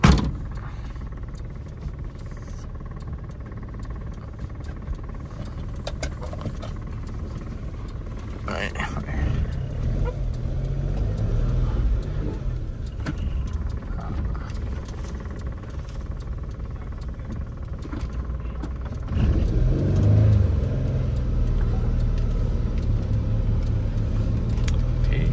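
A 1999 Suzuki Khyber on a test drive gives a continuous low engine rumble and road noise throughout, swelling slightly in a couple of places as it moves along.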